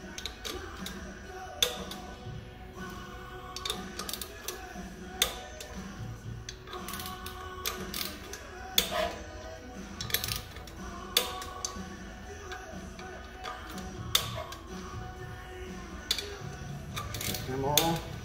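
Torque wrench tightening bolts on a Jeep CJ5 transmission during clutch and flywheel installation, repeated close ratchet ticks in short runs with sharp clicks, against faint workshop background noise.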